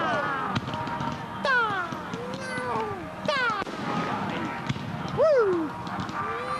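Firework rockets go off at a Guy Fawkes night display at Stoke Park, Guildford, with several whistles swooping up and down in pitch and sharp cracks, over a murmur of crowd voices.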